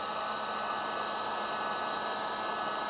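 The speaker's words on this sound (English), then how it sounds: "We're using a heat gun." A heat gun blows steadily on a Ford Ranger fender to warm the paint around a badge, giving an even, close, continuous hiss-like airflow roar with no talking.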